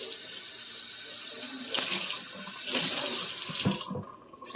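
Hot water runs from a kitchen tap into the sink in a steady rushing stream, close and loud, surging twice before cutting off near the end.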